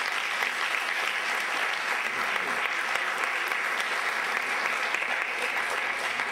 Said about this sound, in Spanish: Un fuerte aplauso para José.